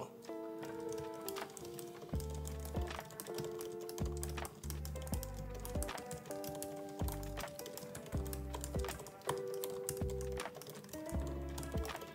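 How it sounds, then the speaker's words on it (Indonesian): Rapid typing on a computer keyboard during a typing speed test, close and quiet, with fast irregular key clicks in bursts over faint background music. "Gue cuma bakal nunjukin gue ngetik di sini"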